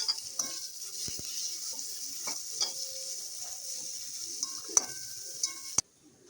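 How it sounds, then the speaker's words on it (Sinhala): An egg fries in oil in a pan, a steady soft sizzle with a few light clicks and scrapes, quiet and close, cutting off abruptly near the end. "මේ බිත්තරේ පොඩ්ඩක් තෙල් එකේ බැදෙන්න දෙන්න."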